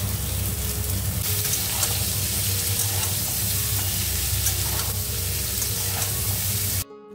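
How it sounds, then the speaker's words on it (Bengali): Bitter gourd and pumpkin pieces frying in a pan give a steady, close sizzle with soft stirring scrapes that runs throughout, then cuts off abruptly near the end. "আজকে আপাতত উচ্ছে আর কুমড়ো ভাজবো।"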